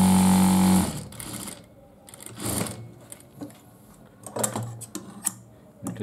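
A sewing machine stitches the side pocket of a men's asymmetric kurta, giving a loud steady whir at the start, then short bursts of stitching separated by brief pauses.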